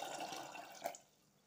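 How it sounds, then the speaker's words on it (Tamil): Water pours steadily into a cooker pot holding black chickpeas, a close, continuous splashing flow that stops abruptly after about a second. "இப்ப தண்ணி சேர்த்துக்கலாங்க"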